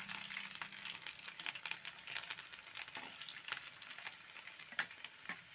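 Garlic frying in oil for a restaurant-style potato curry, a steady crackling sizzle with scattered pops and stirring scrapes, close and continuous with no talk.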